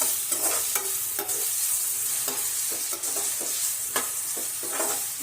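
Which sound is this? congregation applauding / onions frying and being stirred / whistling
onions frying and being stirred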